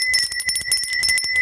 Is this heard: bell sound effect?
yes